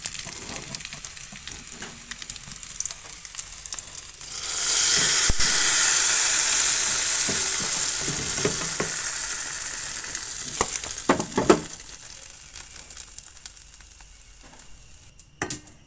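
Curry leaves crackle and sizzle as they hit hot oil for a curry tempering, a sudden burst of loud frying hiss that gradually eases over several seconds, with faint stirring clinks and no talk.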